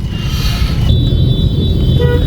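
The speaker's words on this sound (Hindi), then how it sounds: "हॉर्न पे हॉर्न बजा रहे हैं" Car horns toot through a steady roar of road traffic on a road in Noida, India, a couple of short honks standing out near the middle and end.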